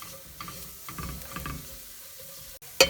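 A spice blend toasting in a roux for chicken and dumplings gives a close, steady, soft sizzle with faint stirring scrapes, ending in a brief sharp clatter.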